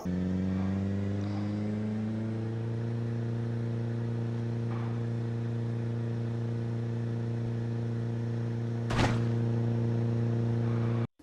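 A car engine idling steadily in the zombie survival game Project Zomboid, a constant low harmonic drone with one brief sharp clunk near the end before it cuts off, without speech.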